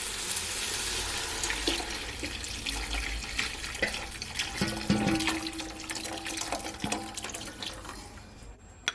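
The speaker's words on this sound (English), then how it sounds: "Now I'm gonna add all that liquid." Braising liquid poured into a pot of seasoned beef short ribs, a steady rushing, splashing pour running close and loud through the whole stretch, with a few light knocks and clinks near the middle.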